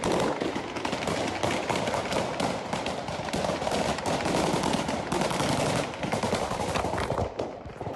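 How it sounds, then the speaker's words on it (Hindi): A machine gun, not an AK-47, fires in dense continuous bursts on a street, its rapid loud cracks running almost without a break for several seconds. "आवाज से साफ था कि ये AK-47 की फायरिंग नहीं बल्कि मशीन गन का फायर था।"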